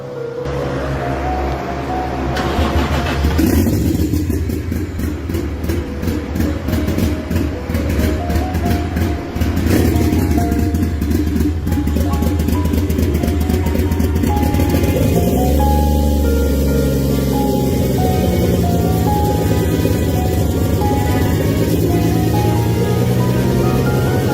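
A Toyota 1JZ-GTE engine cranks, catches and settles into a loud, steady running note, its rumble holding throughout with a shift in pitch partway through as it idles on.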